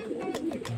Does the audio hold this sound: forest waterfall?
no